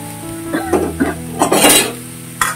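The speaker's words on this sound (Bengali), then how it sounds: "ঠিক আছে এটা এখন ততক্ষণ এরকম নেড়ে দিয়ে" Frying food in a pan gets stirred with a few brisk scraping strokes and light metallic clinks of the utensil against the pan, close and fairly loud, over a soft steady sizzle.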